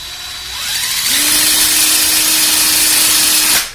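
A power drill drilling into a metal alternator bracket whirs steadily at one pitch for a few seconds, loud and close, then cuts off abruptly.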